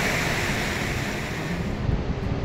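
Glacial meltwater pours down in a powerful torrent from a glacier on the Annapurna Base Camp trek, heard as a steady, loud, broadband roar with wind buffeting the microphone throughout.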